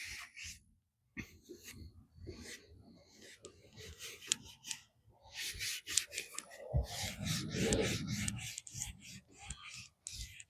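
An abrasive scrubs over the aged surface of an old cooler in close, irregular rubbing strokes with short pauses, growing louder and more vigorous toward the end.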